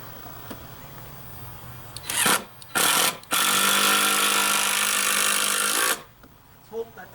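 A power tool drives screws through a bolt into a gate frame, whirring in two short bursts and then one longer sustained run of about three seconds, loud and close, with brief quiet gaps between.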